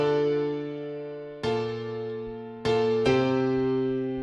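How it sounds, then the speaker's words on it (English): A Flex Essentials Grand Piano plays a simple chord progression for a hip hop beat verse: four sustained chords struck at steady intervals, each ringing and slowly decaying, clear and alone with no voices. "I'm using Flex Essentials Grand Piano, playing a simple"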